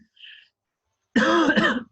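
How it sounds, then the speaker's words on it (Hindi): A faint brief breathy sound, then a single rough, voiced cough lasting under a second, close and fairly loud. "खांसी आई,"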